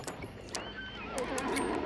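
Horse neighs and hoof clip-clops ring out in a tactical shooter video game, a brief whinny rising over steady game ambience with a few sharp hoof taps.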